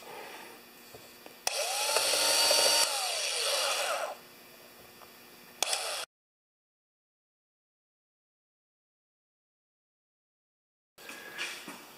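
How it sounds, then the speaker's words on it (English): A power drill countersinking a screw hole whines loudly for a few seconds, then stops; a short burst follows, then silence before faint sound returns at the end. "Now we'll countersink it, just a little tiny bit."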